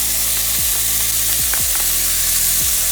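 Garlic fries loudly in a pan for braised oxtail stew, a dense constant sizzle with repeated scraping strokes and knocks as it is stirred around.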